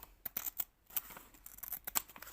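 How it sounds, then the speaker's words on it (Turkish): Scissors snip open a LEGO DOTS package with a series of quick, close, quiet cuts and small crinkles, without talk. "Şimdi makasımız burada. Şimdi arkadaşlar hemen cici açalım."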